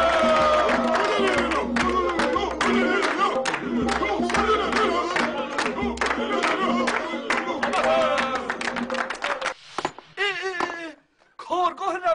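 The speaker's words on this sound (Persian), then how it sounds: "به افتخار استاد جیغ و دست و هورا" A studio audience screams, claps and cheers together in a loud, dense, continuous roar that runs for several seconds, then breaks off into a few scattered voices.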